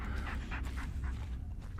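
A dog pants in quick, rhythmic breaths in the Blair Witch video game, fairly close but quiet, with no speech over it.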